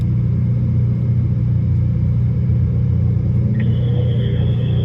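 A Ferrari SF90 Stradale sits on a race track with its engine rumbling in a low, steady drone. The sound is loud and close and continues throughout, with a faint high whine rising near the end.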